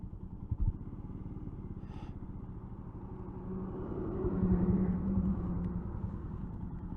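Several motorcycles idle and rumble at a biker cafe, a steady low engine throb close by that swells slightly as one revs, with no talk over it.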